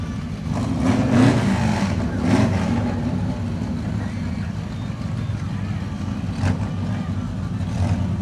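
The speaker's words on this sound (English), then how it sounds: "I'm glad public safety's not writing tickets for loud mufflers tonight" Dune buggies and VW-based cars with loud mufflers rev and rumble past in a nighttime Christmas parade, with a steady low exhaust drone and a few louder revving swells.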